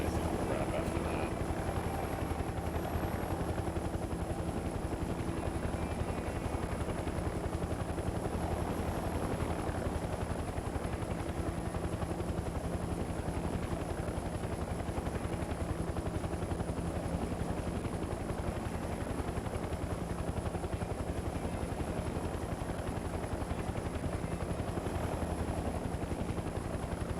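Helicopter in flight in the video game Mercenaries 2, a steady loud rotor drone with a high whine that runs unbroken throughout, with a voice talking faintly over it.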